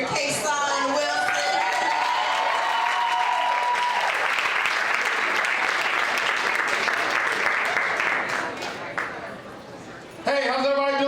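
An open mic audience breaks into sustained applause and cheering to welcome a performer, with a host's voice over the start and a speaking voice returning as the clapping fades near the end.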